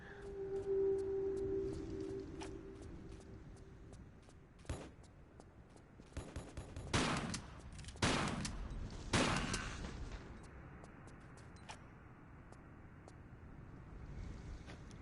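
Bursts of gunfire as Lara shoots enemies in Tomb Raider: The Last Revelation, several sharp broadband cracks clustered in the middle stretch over a windy, rumbling game ambience.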